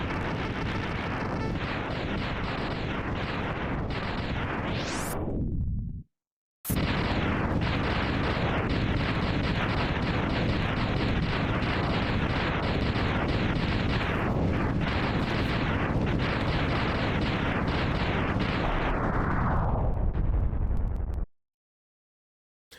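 A huge, roaring explosion blast in Mega Man X, loud and sustained for several seconds, cutting out briefly then continuing as a dense rumbling roar before stopping abruptly.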